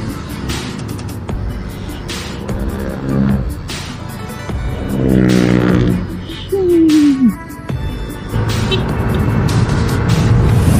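A Yamaha Mio i 125s scooter engine starts and revs up and down, the motor note rising and falling steadily up close, with a person speaking over parts of it.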